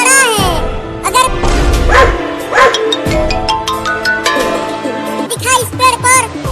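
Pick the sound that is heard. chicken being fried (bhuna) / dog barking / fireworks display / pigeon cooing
dog barking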